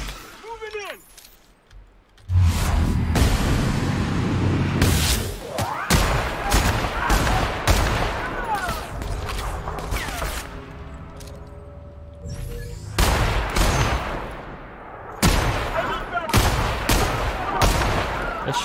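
Gunfire in the video game The Outer Worlds plays as loud, sustained bursts of rapid shots and fusillades that run almost continuously, with brief lulls. A voice talks intermittently underneath.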